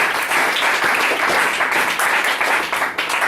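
A church congregation breaks into loud, dense applause in praise during a sermon, many hands clapping with some rhythmic pulsing, sustained throughout.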